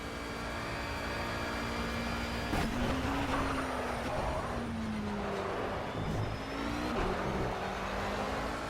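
A car's engine blips and revs as the driver downshifts rapidly in a braking zone, with repeated rising and falling pitch sweeps heard from inside the car over a constant loud road and engine drone.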